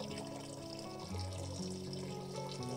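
Water poured out of a container holding a mosquito larvae culture, a steady close trickle and splash running throughout with no talking.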